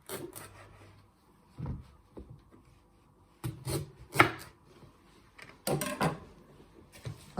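A knife chops the ends off a turnip on a wooden board in a few sharp, close thuds and cutting strokes, separated by short quiet gaps.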